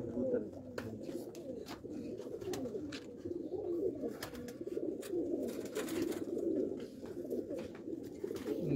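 Sialkoti pigeons in a breeder's loft coo softly and repeatedly, low rolling calls overlapping steadily, with scattered light taps and flutters in the quiet background.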